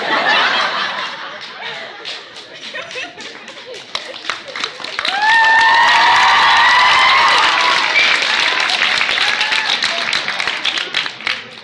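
A school coffee house audience applauds a comedy set, clapping densely and steadily, with laughter and cheering voices swelling midway before the applause tapers off.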